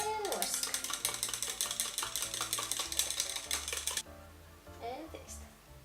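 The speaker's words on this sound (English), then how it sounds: "And whisk." A homemade salad dressing with sumac and freshly ground black pepper whisked in a bowl, producing a rapid, steady run of light metallic clicks for a few seconds over background music, then fading.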